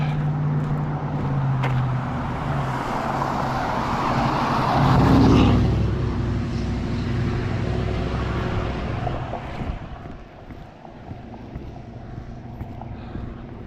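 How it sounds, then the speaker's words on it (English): A loud diesel truck rumbles past on a night road, low engine roar swelling to a peak midway then fading away, with wind buffeting the microphone and no talk over it. "I'll wait till this loud diesel truck goes by."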